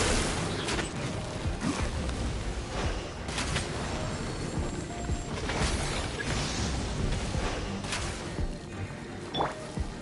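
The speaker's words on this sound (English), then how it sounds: "Here come the fireworks." Fireworks in the video game Genshin Impact: a dense, continuous barrage of loud overlapping booms and crackling bursts filling the whole stretch, with sharper bangs standing out near the start and end.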